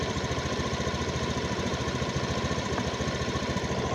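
Honda Beat FI scooter engine running: a steady, close, rapid pulsing putter holds evenly throughout with no voices.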